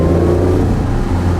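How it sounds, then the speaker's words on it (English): A BMW i8 Roadster's petrol engine accelerates in sport mode, a loud steady engine drone heard from inside the car with no talking. "the petrol engine kicking in sport mode now"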